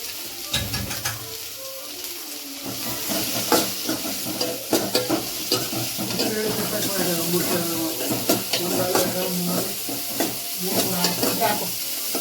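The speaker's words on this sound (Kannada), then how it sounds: "ಇವಾಗ ಈರುಳ್ಳಿ ಮತ್ತು ಪೊಟ್ಟೆ ಮೆಣಸಿನ್ಕಾಯಿ ಒಗ್ಗರಣೆಗೆ ಹಾಕೋತಾ ಇದ್ದೀನಿ." Onion and green chili sizzle in about two spoons of hot oil as a tempering for baby corn manchurian, a steady close crackle with frequent stirring scrapes and faint background talk.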